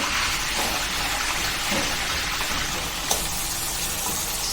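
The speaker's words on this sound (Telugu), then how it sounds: "ఉల్లిపాయలు, పచ్చిమిరపకాయలు వేస్తామండి." Onions and green chillies frying in hot oil in a pan, with a dense, steady hiss of sizzling close by and a single faint clink partway through, with no talk.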